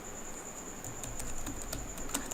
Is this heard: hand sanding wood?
no